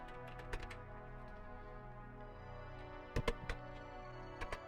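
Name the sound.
typing on a Commodore VIC-20 computer keyboard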